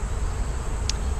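Bees buzzing around an old oak tree during removal of the colony, a dense steady outdoor hum with one brief closer buzz as a bee passes near.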